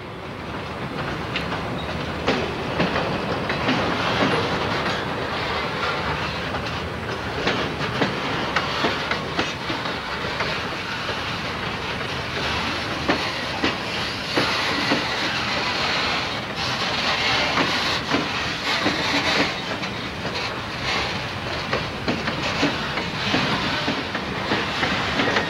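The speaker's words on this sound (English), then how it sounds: "Afterwards, he drove back to Melrose where he found the train ready to climb up the hill." EMD SD40-2 diesel locomotives haul a train up the steep Saluda Grade mainline, a steady loud engine roar with rhythmic wheel clatter on the rails, continuous and close throughout.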